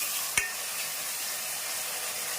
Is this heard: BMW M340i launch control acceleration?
no